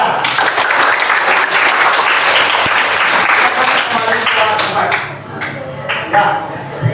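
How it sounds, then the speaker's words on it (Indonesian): Students in a classroom applaud a presenting group with dense, lively clapping that carries for about five seconds, then breaks into a few scattered claps as the room settles. "Oke, tepuk tangan untuk kelompok berapa?"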